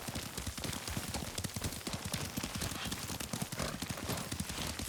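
Horse hooves clip-clop in a steady, quick rhythm as a rider travels in a video game set among Mongol invaders, close and continuous with a faint whinny possible beneath.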